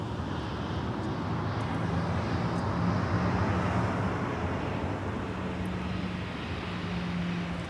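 A Delta Boeing 737-900 airliner at Minneapolis–St. Paul airport gives off a steady, broad jet-engine roar at moderate distance, even and continuous with no talk.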